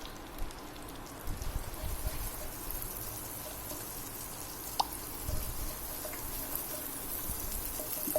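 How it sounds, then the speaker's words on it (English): Ginger sizzles in a hot pan while tava pulav is cooked, giving a steady, soft crackling hiss with scattered pops, fairly faint and continuous with no voices. "Okay, it's nice and sizzling."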